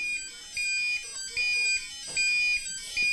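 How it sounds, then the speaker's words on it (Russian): A school alarm system is going off in a repeating electronic pattern of high beeping tones, the bursts pulsing on and off about every half second at a moderate level, with no talking. "Сработала сигнализация?"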